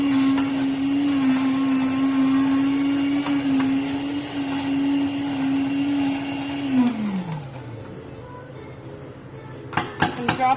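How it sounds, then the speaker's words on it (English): A milkshake blender whirs steadily at a constant high pitch for about seven seconds, then winds down as it is switched off, followed by a few clinks of a cup being handled. "you can blend it while holding it. You're going to make sure that it's thoroughly mixed."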